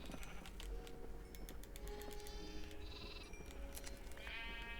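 Blocky sheep in a Minecraft flat-world farm bleat in several short overlapping calls, with synthetic game tones layered over a steady low hum.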